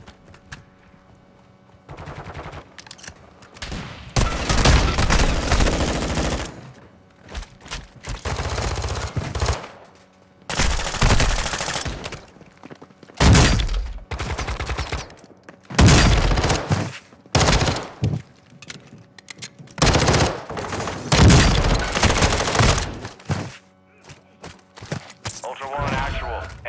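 Rapid automatic gunfire from the video game DMZ, loud, sustained bursts separated by short pauses, repeating throughout.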